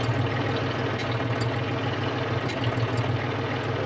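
A hay mower tractor that had sat under water idles steadily with a low, even engine drone and faint knocking as the PTO is slowly engaged, close and continuous throughout.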